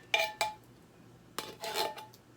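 A spoon scrapes stuck beans out of a metal can in a few quick, faint metallic scratches and clinks, two short bursts then a longer scrape, with no one talking.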